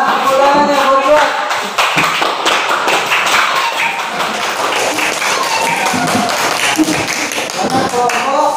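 A classroom group claps hands together in fairly loud, dense, fast clapping, close by, while children's voices chatter underneath throughout.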